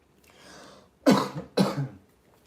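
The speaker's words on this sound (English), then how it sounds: "Let me walk away so I don't cough in your ear." A person coughs twice in quick succession, close and fairly loud, each cough a harsh burst that trails off, during a casual live evening stream with no other talk.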